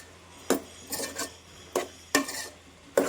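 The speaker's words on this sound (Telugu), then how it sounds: "ఒకసారి కలిపేద్దాం." A spoon stirs sambar in a pot after ginger garlic paste goes in, making five or six distinct scraping clinks at uneven intervals over a faint sizzle, with no speech.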